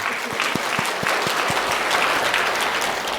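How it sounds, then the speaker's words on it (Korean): A church congregation applauds a youth choir at a youth worship service: dense, loud, sustained clapping that fills the room, with a few sharper individual claps standing out early on. "찬양 준비한 청년부 연합 찬양대 격려의 박수를 부탁드립니다."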